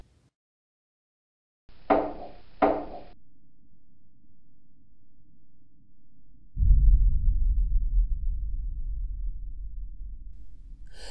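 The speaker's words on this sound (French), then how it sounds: "on entend le caillou tomber sur le bord de la cheminée alors qu'il est encore dans l'air" A small stone falls onto the edge of a fireplace: two short, dull knocks about a second apart, close and fairly sharp, in an otherwise quiet room, followed later by a low rumbling background.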